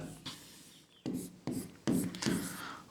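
Pen scratching numbers onto paper for a compound interest sum, with short quick strokes in separate bursts, close up and soft.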